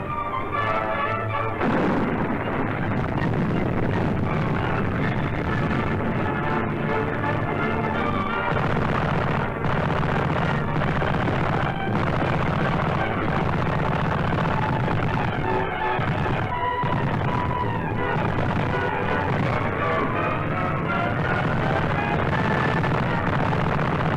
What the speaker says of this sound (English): the enemy's resistance was broken by the merciless barrage